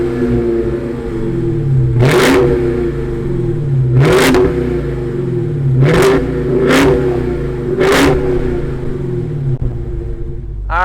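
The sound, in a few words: 2020 Dodge Charger Hellcat Widebody supercharged engine starting and revving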